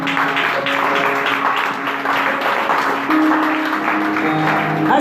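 A church congregation applauds and cheers for Jesus during a Sunday worship service, steady dense clapping and voices filling the room over sustained music throughout.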